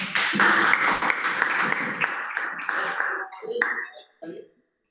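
A classroom group claps together in a dense burst that gradually thins into scattered claps before stopping.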